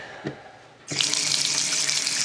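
Bathroom faucet spurting water as the home plumbing is blown out for winter: a short sputter, then a sudden loud, steady rush of splashing water and air, close by with no talk.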